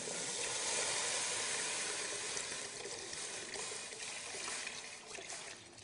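Water, one and a half to two litres, poured into a pot of Moroccan harira, a steady faint gushing hiss running continuously and easing slightly toward the end.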